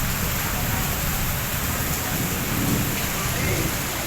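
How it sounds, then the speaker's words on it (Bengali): Steady rain pours onto a flooded street, a dense, even hiss of falling water that continues without a break and is heard alone. "বৃষ্টিতে রাস্তায় পানিতে থই থই।"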